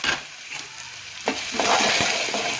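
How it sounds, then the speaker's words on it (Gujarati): Cumin seeds and chopped onion frying in hot oil in a home kitchen, a steady close sizzle that swells after a brief burst of spatter midway, with occasional light stirring scrapes and no talk. "હવે થોડું જીરું નાખી દઈએ અંદર, ડુંગળી નાખી દઈએ શેકાવા"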